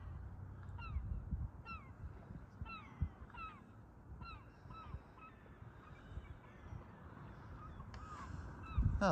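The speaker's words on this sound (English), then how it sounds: "I like scaring birds." Birds being scared off, with a series of honking, goose- or crow-like calls repeating at a steady pace, moderately distant and faint over low outdoor rumble, ending in a louder burst of noise.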